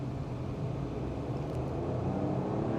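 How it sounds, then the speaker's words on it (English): A 2025 Suzuki Swift on a first drive in the UAE gives a steady low engine and road rumble from inside the cabin as it accelerates and brakes, fairly even and moderate in level, without speech. "Now, so I've accelerated and I'm braking."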